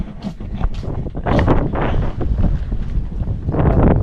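Strong wind buffets the microphone in rough, continuous gusts, with rumbling low-end bursts rising and falling throughout.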